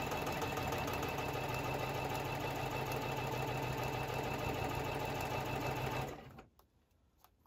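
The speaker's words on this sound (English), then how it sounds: "So now we're going to sew a 1/4 inch seam all the way down." Sewing machine stitching a quarter-inch quilt seam, a fast, steady mechanical whir running continuously for about six seconds before stopping.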